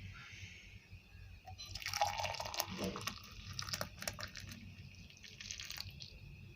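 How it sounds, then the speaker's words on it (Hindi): Boiled mint water is poured from a pot into a glass, with a faint, soft splashing and dripping that swells and fades over several seconds amid light background rustle. "मैं उतार कर एक गिलास में शामिल करूँगा।"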